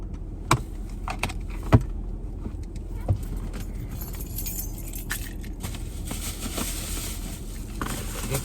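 Light metallic jingling of a set of keys, faint and intermittent with a few brighter clinks, heard over a steady low rumble of a car or road noise.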